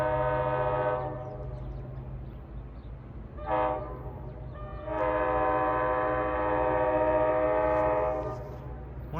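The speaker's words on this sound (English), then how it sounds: "Two GP38-2s with a interesting horn on the point." Horns of two GP38-2 diesel locomotives sound as they pass on a New Jersey Transit main line, a sustained chord blast, a brief short toot, then a longer loud blast over steady rumbling engine and rail noise.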